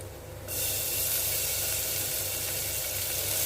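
Blueberries sautéing with cumin sambar rice in a pan give off a steady, close sizzle and hiss that jumps up suddenly and then stays even and loud, with no talking.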